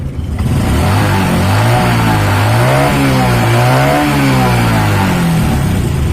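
A Honda Supra X 125 R motorcycle engine idles loudly up close after a carburetor idle adjustment, running as a continuous buzzing drone with slight wavering in its pitch.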